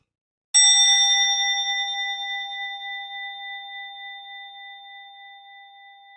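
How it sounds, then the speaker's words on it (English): A single meditation bell is struck once after a moment of silence, giving a bright clear ding that rings on alone and slowly fades over several seconds. "I'll ring a bell"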